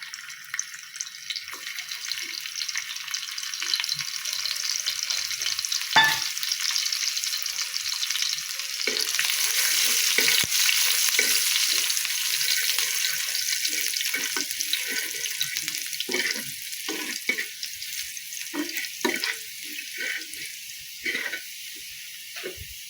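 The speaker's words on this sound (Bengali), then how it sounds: "তেলটা গরম হয়ে গেলে এর মধ্যে দিয়ে দেবে একটা রসুন কুচি" Chopped garlic crackles in hot oil with a bright, hissing sizzle that swells midway, dotted with occasional stirring scrapes and pops.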